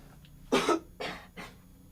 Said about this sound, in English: I hope you don't hear that cough when I like lean over.